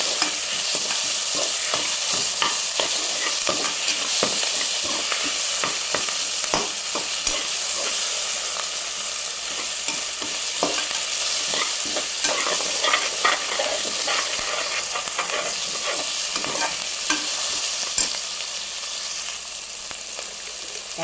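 Tomato sautéing in a hot pan, with a constant loud sizzle and frying hiss broken by repeated scraping stirs of a spatula throughout.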